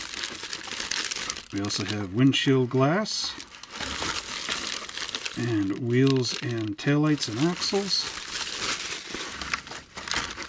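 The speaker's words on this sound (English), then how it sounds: "Gee, a lot of plastic bags." Plastic bags crinkling and rustling close by while unboxing a 1968 Buick Opel GT model kit by AMT/ERTL, irregular crackly bursts alternating with someone talking.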